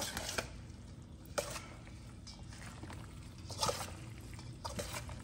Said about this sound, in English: And we will stir that all together.